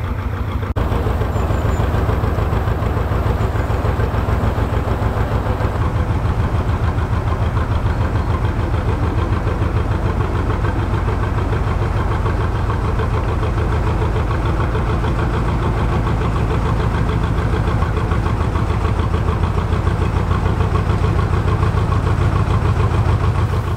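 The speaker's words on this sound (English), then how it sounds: "With Raymond in the correct position, Nick goes into forward and starts to make the turn." A narrowboat's engine runs in forward gear while the boat makes the Hawkesbury turn, giving a steady, close, continuous low diesel thumping and rumble that holds without a break and with no voices.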